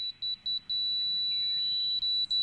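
A laser detector clipped to a leveling rod at a backyard deck build gives a quick run of sharp, high beeps, then a steady tone, then two more short beeps, clear and close.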